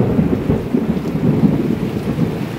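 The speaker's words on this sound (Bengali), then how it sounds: "প্রচন্ড পরিমাণে মেঘ ডাকছে, দেখছো তো।" Deep thunder rolls on and on beneath steady rain during a cyclone storm, the low rumble swelling and easing in waves without pause, loud and fairly close.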